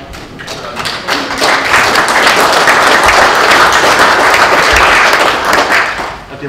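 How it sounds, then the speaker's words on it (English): Sustained applause fills a Wokingham Borough Council meeting chamber, a dense, steady wash of many hands clapping that builds quickly, holds at full strength for several seconds, then begins to taper. "I did wonder if I would have to wait for the applause."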